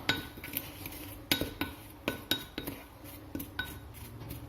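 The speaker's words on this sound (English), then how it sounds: "I'll use my tablespoon, circular part, hold the handle, and just stir to combine." A tablespoon stirs a mixture in a bowl, clinking against the sides in quick, light metallic taps with a soft scraping between them, close and fairly quiet.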